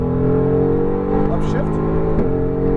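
A Mercedes-AMG GT R on a race track at full throttle, a steady, dense engine drone with a faint rise in pitch, heard close up beneath a voice talking.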